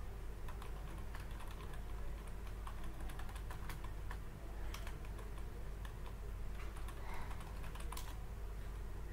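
Typing on a computer keyboard while editing cells in an Excel spreadsheet, scattered faint key taps over a constant low background hum, with no talking.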